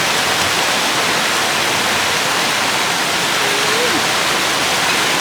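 Mountain stream flowing beside a forest restaurant high in the hills, a steady loud rush of water with no pauses, close and continuous like a small waterfall.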